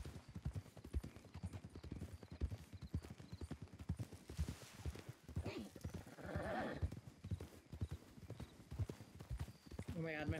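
A ridden horse's hooves clip-clop in a steady, close, rhythmic beat on a trail through trees, with people talking over it and a horse whinnying briefly near the end.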